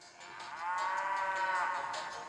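A cow moos in the game Miitopia as a single drawn-out, fairly quiet low call that rises and falls, heard alone over faint background music.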